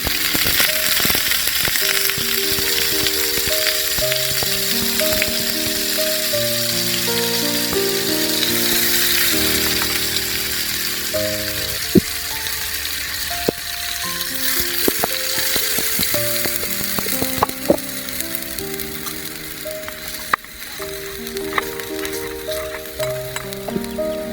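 A paste of ginger, garlic, onion and cumin fries in a miniature pan over a tiny scratch-cooking setup, giving a constant close sizzle with occasional sharp pops beneath soft background music.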